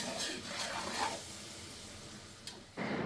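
Cleaned chicken, 2.5 kilos of it, frying in masala in a large pot, giving a steady close sizzle with bursts of stirring and scraping and a sudden louder hiss near the end.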